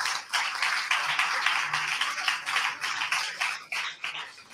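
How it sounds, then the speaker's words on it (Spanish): Audience applause for three people at a Spanish-language event, a dense continuous patter of many hands clapping at moderate distance, steady for several seconds with slight swells. "un aplauso por vuestro fuerte. Trabajo"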